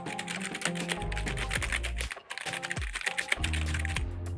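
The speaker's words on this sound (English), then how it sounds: "As you can see, I'm just pressing random keys." Rapid, random keypresses clatter on a computer keyboard, dense and continuous with a short pause near the middle, close and fairly loud with no talking.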